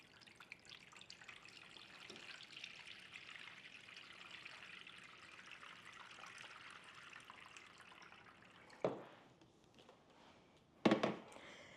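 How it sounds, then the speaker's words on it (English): Water streams steadily into an acrylic floral arranger for about eight seconds, a soft continuous trickle. Two sharp knocks follow once the flow stops. "First thing I'm going to do is open this up and fill it with water."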